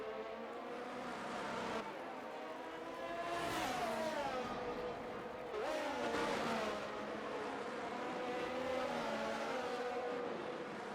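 F1 race cars lap the Singapore circuit in a video game, their engines wailing and rising and falling in pitch as cars pass and accelerate. The sound is steady and moderately loud, with no voices.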